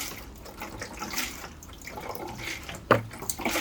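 Diluted cresol solution is poured into a bottle, a soft continuous trickle of liquid close by, with a brief sharper splash or clunk near the end and no talking.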